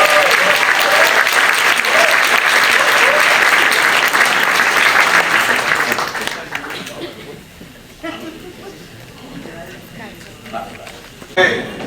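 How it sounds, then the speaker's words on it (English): Loud applause from a crowd at an Eid ul-Fitr celebration hosted by the NYC Comptroller, filling the first six seconds before thinning into scattered claps and murmuring voices, with a brief final burst. "Please, big round of applause"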